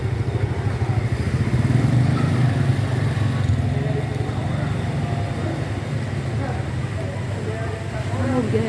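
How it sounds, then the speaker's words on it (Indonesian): A motorcycle passing close on a street in Tuban, Indonesia, its engine rumble loud and steady for several seconds, with people talking over it. "Awas motor."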